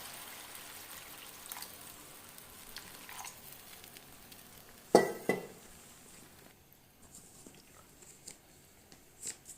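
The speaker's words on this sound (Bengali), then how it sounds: "মশলাটা কষানো হয়ে এলে সামান্য জল দিয়ে আরও ভালো করে কষাবো" Spice paste frying and being stirred in a pan while cooking a Bengali cabbage curry, giving a quiet, steady sizzle with one brief louder clatter midway and a few soft scrapes afterward.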